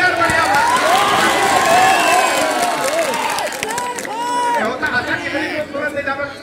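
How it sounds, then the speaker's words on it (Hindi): An audience at an all-India mushaira and kavi sammelan in Sadarpur cheers, whoops and claps over a busy crowd din, with voices shouting throughout. "ताली बजाओ यार, बढ़िया बात।"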